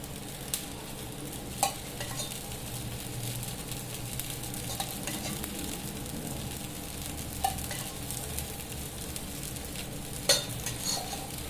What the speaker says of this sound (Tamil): எல்லா குழியிலுமே நம்ம பணியாரத்தை ஊற்றியாச்சுங்க. இது வேகட்டும்.